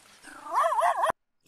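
A dog gives a short, rising whine-like growl that wavers in pitch and swells in loudness, then cuts off abruptly into silence.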